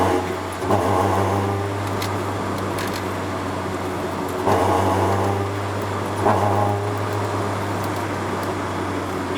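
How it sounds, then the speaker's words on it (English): A Toyota AE86 with a 4A engine running steadily near the listener, with three short surges as the throttle is stabbed; no one speaks. "You get that little bit of a doughy feeling when you stab the throttle, like I'm stabbing it all the way."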